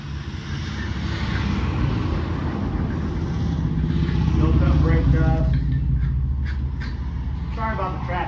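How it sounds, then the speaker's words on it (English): Heavy road traffic roars past an open garage where brake pads are being changed on a 2004 Ford F-150 4x4. The engine and tire drone is loud and continuous, and someone talks over it. "Sorry about the traffic, guys. Sorry about the noise."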